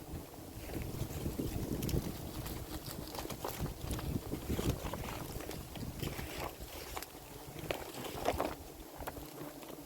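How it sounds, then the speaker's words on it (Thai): Strong wind buffets the microphone in a continuous, gusty roar with rumbling low-end bursts, no voices heard. "ลมแรงครับ"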